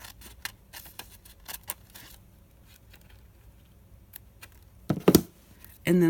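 Scissors snip through a journal page paper tag, a run of light, quick crisp cuts close up, followed by a few louder clicks and a brief rustle at the end.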